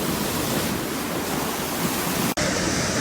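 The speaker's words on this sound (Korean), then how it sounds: "와, 근데 파도 무섭다." Ocean waves breaking on a beach at Nerja on Spain's Malaga coast in September, a loud, steady close roar of surf and rushing water filling the whole stretch without pause.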